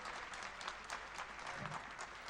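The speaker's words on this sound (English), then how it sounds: "A big round of applause" Applause from a conference audience of chartered accountants in Jaipur greets a bank founder coming to the dais, a steady patter of many hands at moderate distance.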